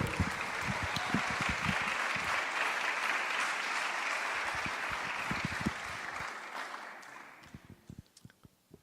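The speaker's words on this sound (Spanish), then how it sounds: "Dale un fuerte aplauso al Rey." A church congregation claps loudly, a thick sustained round of applause that gradually thins and fades into a few scattered claps at the end.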